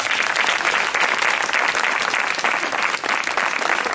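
Loud, dense applause from a gathered audience at a spiritual satsang meeting, honoring Professor Anil Kumar; continuous clapping from many people, close and sustained throughout.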